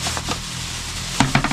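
Food frying in a pan gives a steady hiss and sizzle, with a few brief clinks of utensils near the end and no talk.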